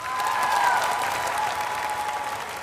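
An audience at a Vietnamese singing competition applauds a duo, a full, sustained burst of many hands clapping, with a faint sustained musical tone sounding beneath it.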